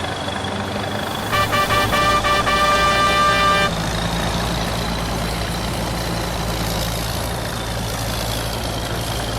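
A Tanco S7000 combine harvester in Farming Simulator 19 runs with a loud, steady engine drone, joined early on by a few seconds of a bright, tonal horn-like beeping that then stops while the engine keeps rumbling.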